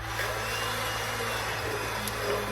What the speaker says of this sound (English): I literally just take my immersion blender